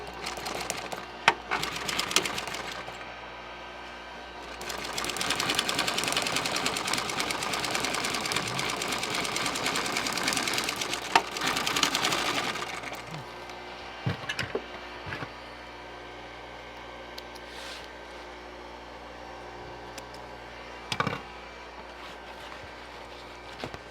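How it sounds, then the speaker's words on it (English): A sewing machine stitches carpet for the transmission tunnel of a Model A Roadster interior. It runs steadily for about nine seconds, close and fairly loud, then stops, leaving quieter workshop clatter. "We'll sew our transmission tunnel in."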